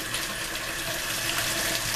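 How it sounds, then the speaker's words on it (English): Cool water runs from a tap into a bowl in a home kitchen, a steady, even rushing splash that holds for two seconds. "we're going to fill the bowl up with some cool water"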